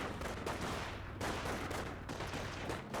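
Dense bursts of gunfire aimed at an engineer squad in the Company of Heroes real-time strategy battle, rapid overlapping shots crackling loudly and continuously with no break.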